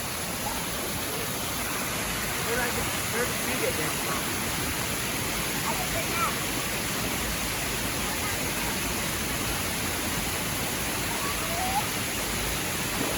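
A steady broadband rush of falling water at a waterfall in Camp Creek State Park fills the whole stretch without pause, with people, including children, talking faintly under it.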